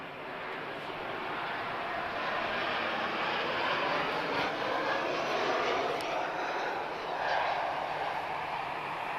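A Transavia airliner arriving at Lisbon Airport produces a broad jet roar that swells gradually and holds steady at moderate distance, with faint talk briefly beneath it.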